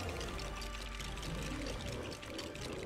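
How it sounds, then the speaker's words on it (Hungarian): Water splashes and pours in the LEGO Marvel Super Heroes video game, a soft, continuous gushing that lasts a few seconds at low volume. "Itt ráborítunk egy kis vizet."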